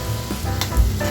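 Corned beef frying and sizzling in a pan with a steady hiss as it is stirred, with occasional clinks and no voices.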